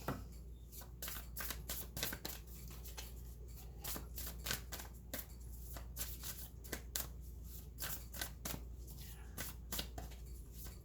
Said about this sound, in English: My shuffling is not real good tonight,